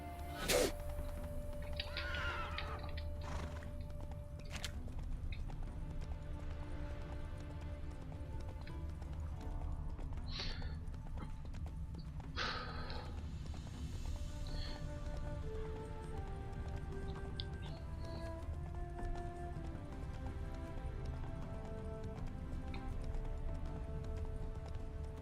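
Roach, the horse in The Witcher III: Enhanced Edition, galloping with a steady rapid clip-clop of hooves that carries on for a long stretch, joined by occasional snorts and faint ambient game sounds.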